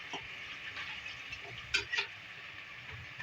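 Half-cooked beef fries in a pan for a beef bhindi gosht, a soft steady sizzle with a couple of sharp clinks of a spoon against the pan.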